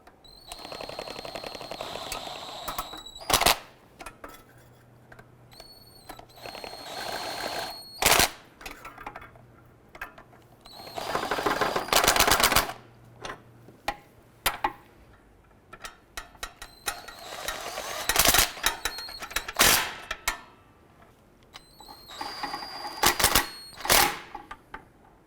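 Exhaust manifold nuts on a 2012-2017 Toyota being snugged down with a ratchet or impact tool: repeated loud bursts of rapid mechanical rattling separated by quieter pauses, close up and without talk.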